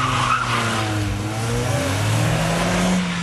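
A naturally aspirated Ford Focus 2.0 on a race track, its mid-pitched engine holding steady high revs with a faint tire squeal, loud and continuous throughout with no talk.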